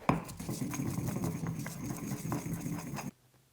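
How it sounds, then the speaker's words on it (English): Oregano and saffron ground with a mortar and pestle for Andalusian pinchos morunos, giving about three seconds of steady, close scraping and gritty pounding that stops abruptly. "And now I'll continue to work that with the mortar and pestle."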